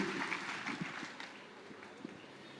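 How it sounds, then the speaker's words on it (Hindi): Audience applause at an AWPL company gathering, a broad crowd clatter with a few sharper claps that gradually thins and fades toward the end. "कितनी तालियां होनी चाहिए"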